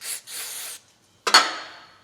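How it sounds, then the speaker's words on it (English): Carburetor cleaner sprayed on a brass part of a 1950 REO engine, two short hissing bursts, a pause, then a sharp clink followed by a fading hiss, close and clear. "So I'll take a Scotch-Brite. I know I got one of them up here. And some carb spray."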